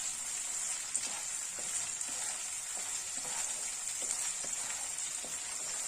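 Ground ginger and turmeric sizzle as they roast in a pan for a halwa, a steady soft crackling hiss with faint stirring scrapes throughout.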